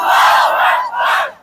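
A crowd at a Bengali religious gathering answers a takbir call with a loud, unified shout, swelling in two surging waves over about a second and a half and then cutting off.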